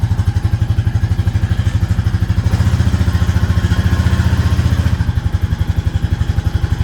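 A Honda Rancher 420 ATV engine idles and revs steadily in a fast, even thumping rhythm, swelling briefly louder in the middle as the rider tries to shift into second gear, with no talk over it.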